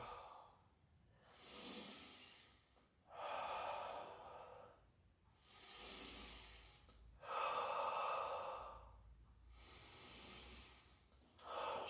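Heavy breathing during a floor exercise, with deep audible inhales and hissing exhales alternating in a slow, regular rhythm, close to the microphone with no talking.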